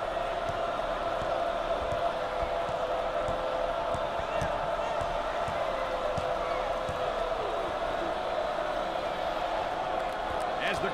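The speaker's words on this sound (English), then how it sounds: "As the crowd continues to chant." Dense, steady basketball arena crowd noise from a college game between 1993 Michigan and 1990 LSU, a continuous roar with a chant-like sustained tone running through it for the whole stretch, after a missed free throw.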